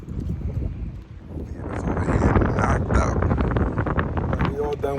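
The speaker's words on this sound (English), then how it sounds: "Ooh, it's windy. Very, very windy." Strong wind buffets the microphone outdoors, a loud continuous rushing roar with gusting swells throughout, while a person speaks over it.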